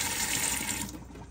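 Tap water pours from a faucet onto a silicone water mat at the faucet base and drains into the sink, a steady close splashing hiss that thins out near the end.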